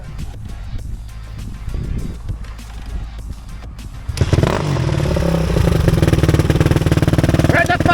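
A dirt bike engine rattles to life outdoors among riders in Mudgee, its loud, steady roar taking over after a stretch of background chatter and clatter, continuing strongly to the end.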